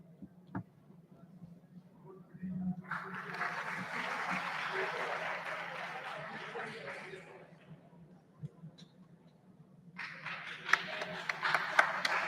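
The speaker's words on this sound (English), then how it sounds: "Guys, please have a huge round of applause for them." A crowd at a Model UN conference claps in two moderate bursts, with a quieter gap between them and faint background noise.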